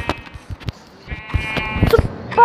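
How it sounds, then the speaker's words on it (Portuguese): A sheep bleats several times in short wavering calls, some faint and some close, mixed with rustling and handling noises. "Vem aqui, ovelhinha."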